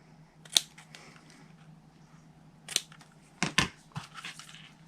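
Scissors snip through Real Red double-stitched satin ribbon in a few crisp, close cuts, with one isolated snip followed later by a quick cluster of cuts in quiet surroundings.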